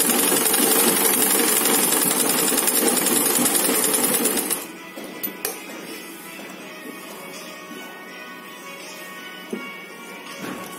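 A sewing machine stitches a pocket onto a tie-dye chef apron, running loud and steady for several seconds before stopping, followed by faint handling noises.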